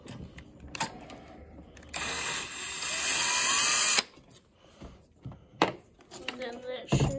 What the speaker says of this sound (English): We're using power tools today.